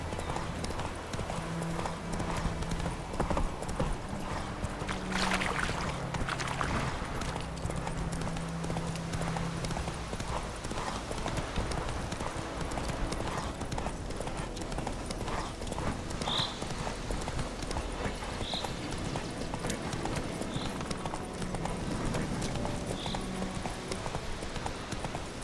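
Horse hooves clip-clop in a steady run through The Witcher 3 game world, continuous across the whole stretch, with a brief whinny, faint game voices and ambient effects layered underneath.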